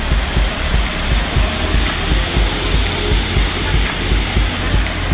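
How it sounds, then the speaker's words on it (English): A waterfall in the Brecon Beacons roars steadily, a dense, loud, continuous rush of falling water that never changes, close by, with no voices. "we experienced some incredible waterfalls."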